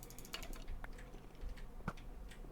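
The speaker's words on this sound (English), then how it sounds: "Spam clicking." Rapid clicking while playing a video game, a fast, uneven run of light, close clicks and taps at low volume with no talking.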